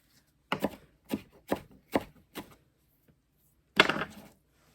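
A knife chops cilantro on a cutting board: five evenly spaced crisp knocks, a brief pause, then one longer cluster of cuts; close, clean and isolated with no talking.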